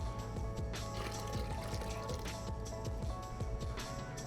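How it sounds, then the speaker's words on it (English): Hot preheat water splashes and trickles out of a Kalita Wave coffee brewer, a steady close pour with small drips and clinks throughout. "make sure to dump your preheat water"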